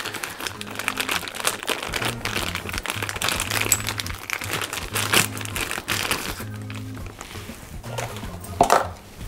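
A new turning tool and its holder are unwrapped from smelly plastic packaging, with dense, continuous crinkling and rustling of plastic and a few hard clicks throughout, close and fairly loud.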